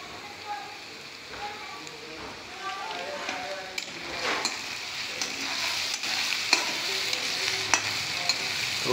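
Chillies, onion and spices frying in oil in a village kitchen, with a steady faint sizzle and occasional clinks and scrapes as the mix is stirred.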